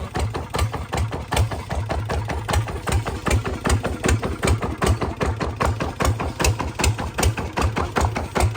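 A Kubota ZT155 Plus diesel engine idles steadily with a rapid, even knocking rhythm, loud and close, no voices.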